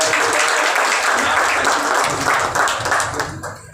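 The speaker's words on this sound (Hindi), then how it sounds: "उनके लिए जोरदार तालियां बजाएं।" Loud crowd applause for a woman guest at a Babasaheb Ambedkar Jayanti community gathering, thick continuous clapping that holds strong throughout and thins slightly at the very end.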